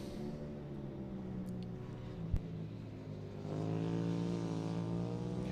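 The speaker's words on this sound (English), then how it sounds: "hear Phoebe there on the brakes and down 3 gears as she gets on the car" Rallycross car at Mondello Park heard from a distance, its engine note falling away under braking as it shifts down through three gears, fairly faint with one brief sharp knock.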